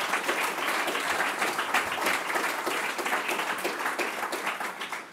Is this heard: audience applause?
yes